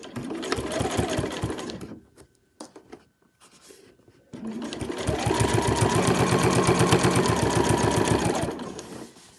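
A sewing machine stitches in rapid, steady bursts, pausing briefly in the middle before running again for a longer, even stretch close by.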